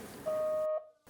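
A phone ringtone gives a single sustained electronic tone lasting about half a second, fairly quiet, followed by near silence and a faint trace of room sound.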